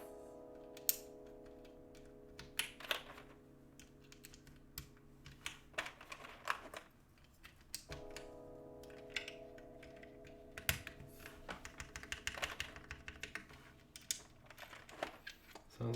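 Keystrokes on a hiney TKL prototype mechanical keyboard, a steady run of close, crisp clicks in bursts with short pauses and no talk.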